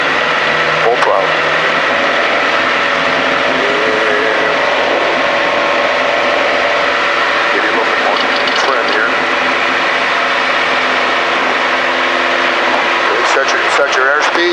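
Small airplane engine at full throttle during a touch-and-go at Shelby County, a loud steady drone with a strong tonal hum that holds throughout. People talk over it in the cockpit.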